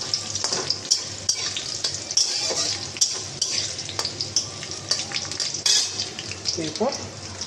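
Cashews and raisins fry lightly with dry spices in a pan, a gentle sizzle broken by repeated sharp clinks and scrapes of a stirring spoon, with a brief trickle of water near the end.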